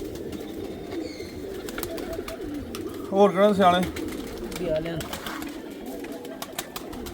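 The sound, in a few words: pigeons cooing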